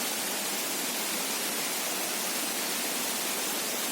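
Grobogan Sewu waterfall roaring with a steady broadband rush of falling water, loud, dense and unbroken throughout, nothing else audible.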